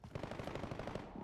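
Rapid automatic gunfire in the video game Call of Duty Warzone, a quick steady string of shots lasting about a second, moderately quiet and with no talk.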